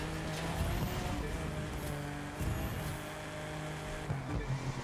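A BMW Z4 in the racing video game The Crew 2 brakes hard: engine revving with downshift surges and a faint tire squeal, continuous and fairly loud, with no talk.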